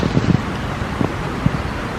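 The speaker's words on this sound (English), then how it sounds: "The wind's currently coming up the valley." Wind blowing up a high country valley in Otago, a steady low rushing roar with soft gusty buffeting against the microphone and a few faint rustles, no talking.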